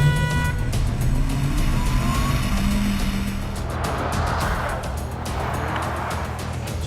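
A race car engine on a hot lap winds up and then drops sharply through a downshift into first gear, a loud, close snarl with rising and falling tones that eases toward the end and has no talk.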